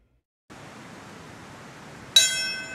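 A single memorial bell tolls once for the 9/11 anniversary, a bright struck ring that rises suddenly out of soft hiss and fades with a long shimmering decay.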